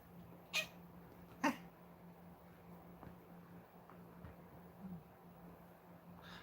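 A cat lying near the microphone gives two short, quiet meows in quick succession, then a faint third toward the end, over a low steady room hum.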